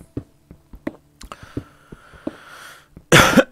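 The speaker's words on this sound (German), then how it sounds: "jetzt habe ich euch doch direkt ins Ohr gehustet" A man coughs a series of short, sharp coughs close to the microphone, spaced irregularly, building to a loud burst at the end; no talk, quiet background.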